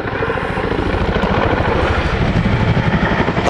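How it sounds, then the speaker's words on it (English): A Chinook twin-rotor helicopter flies a display at an airshow, a loud close rhythmic blade thump over a heavy turbine roar, pulsing steadily throughout. "That's a 7-ton aeroplane pointing straight at the ground."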